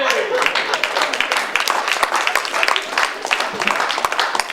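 An audience at an improv theatre show applauds steadily, a dense patter of many hands clapping close by with no speech over it.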